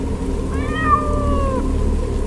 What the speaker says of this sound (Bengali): কোত্থেকে একখানা বিড়াল আচমকা ডেকে উঠল।